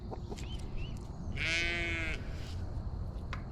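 A single loud, wavering sheep bleat close by, about a second long, over a steady background hum with a few faint clicks.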